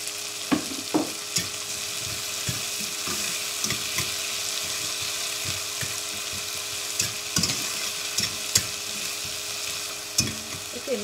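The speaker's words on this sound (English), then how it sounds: "Now I am adding 1 teaspoon of ginger garlic paste." Ginger garlic paste sizzles in a pan alongside an okra and onion curry, a steady close frying hiss broken by frequent short scrapes and taps from a stirring spoon.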